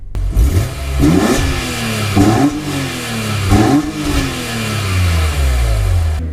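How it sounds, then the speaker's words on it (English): A 2003 BMW E46 M3 CSL with 98,000 km, revved while stationary: three sharp rises in engine pitch that fall back between blips over a steady idle, loud and close, no talking. "Let's give it a couple of revs while I'm sitting here."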